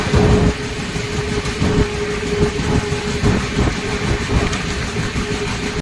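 A train arrives at Satna station with a loud, continuous rumble and clattering rolling noise, heard close up with no voices.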